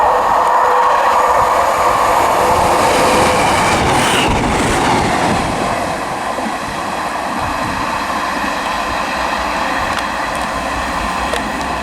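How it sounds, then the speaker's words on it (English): An Arriva Trains Wales service to Pembroke Dock from Swansea rushes past Kidwelly station, a loud, continuous roar of wheels and carriages with rhythmic rail clatter, heard close and alone throughout. "passing now is an Arriva Trains Wales service to Pembroke Dock from Swansea."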